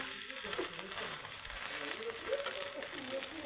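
An egg frying in a pan on a gas stove, a steady soft sizzle with faint crackles running throughout, close and fairly quiet.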